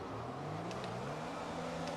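An F1 car engine from the F1 2020 racing game revs at the race start at Abu Dhabi, holding a steady, fairly faint high drone with a slight rising pitch and no speech over it.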